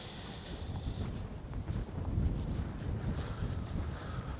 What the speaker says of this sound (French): Alors il y a beaucoup de vent,